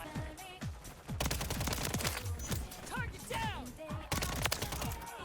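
WSP weapons fire in a Call of Duty game, a dense burst of rapid, loud gunshots in quick automatic bursts with mechanical clatter and whizzing effects, and a voice talks underneath.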